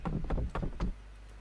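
Knocking on a door in a horror video game map: three to four dull, close thumps in an uneven rhythm, fairly loud, then quiet room tone.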